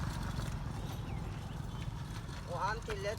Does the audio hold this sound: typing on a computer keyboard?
no